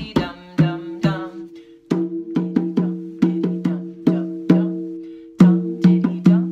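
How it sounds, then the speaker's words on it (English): A small hand drum struck in quick sharp beats, a skipping rhythm of doubled taps and single hits, close and clear with a resonant low tone. "So that's the sound of that drum"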